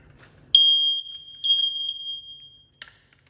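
A smoke alarm lets out a loud, sustained high-pitched beep, pauses briefly, then sounds again, ending with a short chirp.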